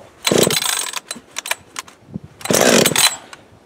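A Husqvarna chainsaw, a 555, 562 or 560 autotune model, pulled over and popping, with two loud bursts about two seconds apart and faint rattles between them, close up.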